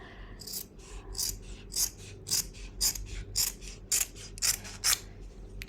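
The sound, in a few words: scissors cutting cloth for stitching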